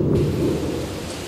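Thunderstorm with a deep rolling thunder rumble over steady rain, loud and continuous across the short stretch.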